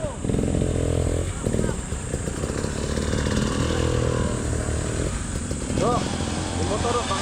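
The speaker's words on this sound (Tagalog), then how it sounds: "Yung motor, baka abutin dyan." Motorcycle engine passing on a mountain dirt trail at Mt. Maarat, San Mateo, Rizal, droning steadily and fairly close throughout, with riders talking over it.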